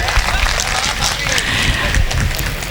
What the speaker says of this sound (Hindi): एक बार जोरदार तालियों से मुझे बताइएगा कि आप यहाँ पे बैठे हुए हैं।